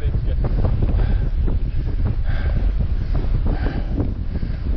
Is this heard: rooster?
no